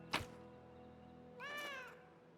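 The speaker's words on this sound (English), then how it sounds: "Kitty cat." A cat meows in the Pathfinder Kingmaker video game: a soft thump comes first, then one clear, rising-and-falling meow, alone against a steady low background hum.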